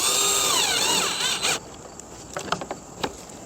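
A cordless power drill drives screws into a plastic headlight assembly on a 2015 Chevy Malibu, a loud whirring run whose pitch sags under load, then short clicking bursts as screws seat.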